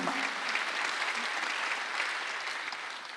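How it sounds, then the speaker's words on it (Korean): A Korean church congregation applauds during a Sunday worship service, producing a steady, even roar of many hands clapping that holds for several seconds and fades slightly at the end. "박수하죠."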